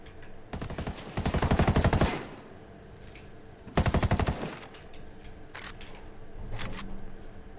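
Video game weapon fire in Ghost Recon Wildlands, with two long bursts of rapid automatic shots followed by a few shorter bursts, loud and close, with no talk.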